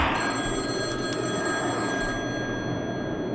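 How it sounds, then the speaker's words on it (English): A phone rings in the horror video game Boogeyman, a steady electronic trill that carries on for a few seconds at moderate level, with no voices. "Stop it with the phone!"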